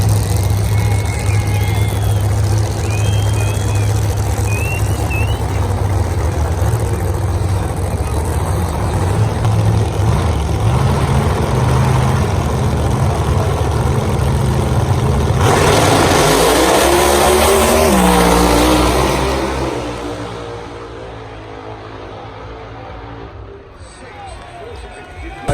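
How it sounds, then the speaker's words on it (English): A car does a very long tyre burnout at a drag racing event, the engine roaring loud and sustained with tyre screech rising, then dropping away as crowd babble and voices carry on beneath. "We got the longest tyre burnout ever."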